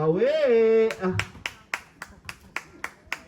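A coach claps steadily on the sideline of a 3x3 basketball league game, about nine sharp, evenly spaced claps following a brief voice.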